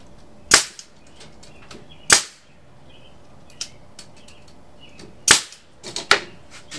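A staple gun fires into wire screen on a DIY Langstroth beehive screen bottom board, giving sharp, loud, gunshot-like cracks: isolated snaps at first, then a quick cluster of several shots near the end, with quiet between them.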